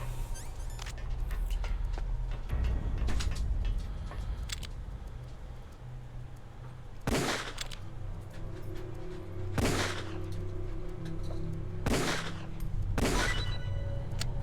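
Gunfire in Metal Gear Solid Twin Snakes comes as several sharp, loud blasts spaced apart, set among lower rumbling game sounds.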